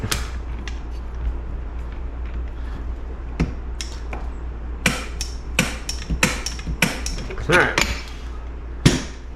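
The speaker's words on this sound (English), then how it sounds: "And then we need to torque this nut." Sharp metallic clicks and taps sound as a torque wrench set to 43 foot-pounds tightens a nut on a 2004 Honda CR125 dirt bike during a rebuild, scattered and irregular, close by over a low steady hum.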